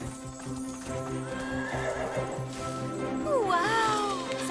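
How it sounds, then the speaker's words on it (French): A cartoon horse neighs loudly with a wavering, rising-and-falling whinny near the end, over steady clip-clop hoofbeats and an animated musical background. "je crois que c'était un hennissement"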